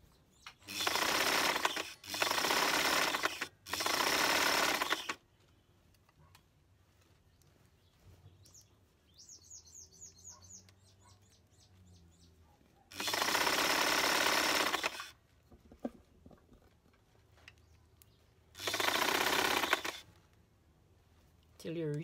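Sewing machine stitching a 5/8 seam allowance, running in five loud bursts of steady whirring separated by pauses, with quieter handling sounds and faint chatter between runs.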